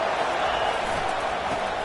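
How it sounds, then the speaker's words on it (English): A large stadium crowd at a Florida versus Texas college football game roars steadily on a third-down defensive stand, a dense, sustained wash of noise with no clear break. "Decibels rising as the crowd gets behind this defense on 3rd down"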